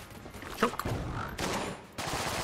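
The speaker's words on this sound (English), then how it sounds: "I've been tossing a lot of bullets in your general direction." Rapid bursts of gunfire from the video game Enter the Gungeon, a dense fusillade of shots in three quick surges over about two seconds, loud and close, with no talk.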